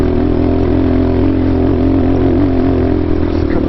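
A GPX dirt motorcycle labours up a slope on Hobble Creek Canyon single track in a low gear, its engine a loud, steady, slightly wavering drone held close throughout with no talk.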